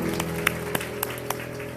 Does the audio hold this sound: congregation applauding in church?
yes